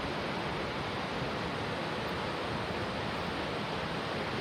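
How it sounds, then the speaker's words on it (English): A raging mountain waterfall on a hiking trail up to a hanging valley, a loud, dense, continuous roar of falling water filling the whole clip with no break. "That is raging waterfall."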